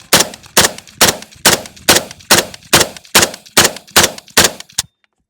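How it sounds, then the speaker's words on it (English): An AK-47 rifle fires eleven sharp, evenly spaced shots at a steady semi-automatic pace, loud and close, each crack ringing briefly before the next, then silence. "see if this AK jams"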